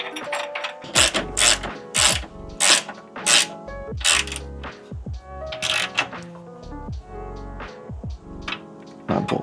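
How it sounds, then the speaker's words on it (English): A ratchet clicks in repeated short bursts as a bolt is threaded into a car frame rail on an Integra GSR, with sharp metallic ratcheting strokes separated by brief pauses, close and clear. "We'll get this bolt here threaded into this frame rail here."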